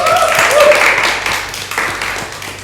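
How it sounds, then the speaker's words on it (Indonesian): A classroom audience claps for a student presentation group, a rough, moderately loud patter that gradually thins out, with voices mixed in. "bisa beri tepuk tangan"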